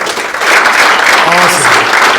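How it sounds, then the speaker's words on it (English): An audience at a real estate investing event gives a round of applause, loud and close, dense clapping throughout with some voices mixed in. "Can I get a round of applause for Greg Crane?"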